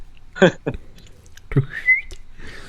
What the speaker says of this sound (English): This guy's just whistling.